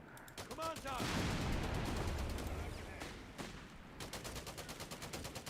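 Aircraft strafing run in the real-time strategy game Company of Heroes 3, rapid bursts of automatic gunfire and impacts rattling in a dense volley, then tapering into scattered clicks, with a faint whistle early on.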